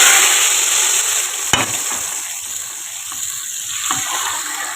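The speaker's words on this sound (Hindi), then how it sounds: "जी अब हम इसमें तड़का लगाएंगे।" Whole chillies and curry leaves crackle and sizzle steadily in hot oil as a tempering for kadhi pakora, loud and close, with a couple of sharp pops.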